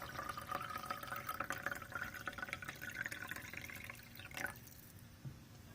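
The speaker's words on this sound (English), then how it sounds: "let's pour a little bit of water in here out of our pitcher" Water poured from a pitcher into a cooking pot of egg drop soup, a steady trickling stream running for about four seconds, then stopping, followed by a few faint clinks.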